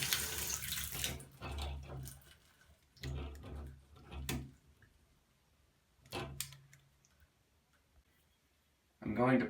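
Water runs from a newly fitted mixing valve and cartridge in a home faucet, flowing steadily in the background then shut off, with someone talking over it in bursts and a louder burst at the end.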